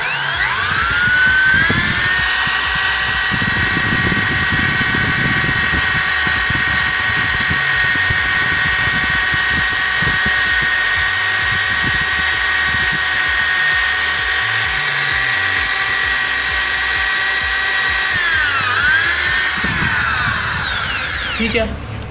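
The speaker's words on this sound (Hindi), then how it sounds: "तो सिंपली इस तरीके से आप लोगों ने इसके अंदर ड्रिल करनी है" An electric drill boring into wood while building a bird cage, a loud sustained whine that holds steady for most of the time before dipping and winding down near the end, with faint speech underneath.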